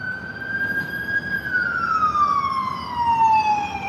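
Emergency vehicle siren wailing on a street, one long sustained tone slowly falling in pitch, fairly loud against steady traffic rumble.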